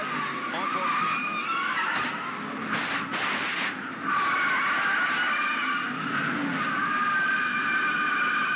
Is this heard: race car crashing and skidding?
yes